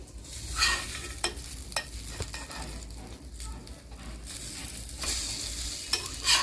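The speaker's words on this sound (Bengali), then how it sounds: "এভাবেই তোমাদেরকে ভেজে নিতে হবে, এপিট ওপিট দুপিট উল্টে ভালো করে" A bread omelette fries in a pan, giving a constant sizzle broken by scraping and clicking as it is stirred and flipped, close and clear with no talking.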